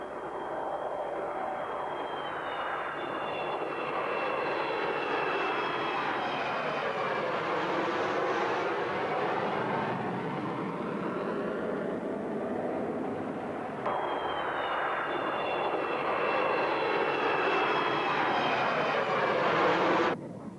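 An F-111 Aardvark jet with variable-sweep wings flies past, its loud roaring engine noise swelling and fading twice in long broad sweeps, steady and close with no talk.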